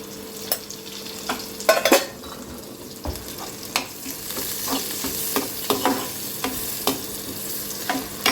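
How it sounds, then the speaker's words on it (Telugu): Onions fry in a pan with salt and turmeric added, giving a steady close sizzle broken by repeated scraping and clinking strokes of a stirring spoon against the pan. "ఇప్పుడే ఉప్పు వేసినామంటే ఉల్లిగడ్డ ఇంకా ఈజీగా ఫ్రై అవుతుంది"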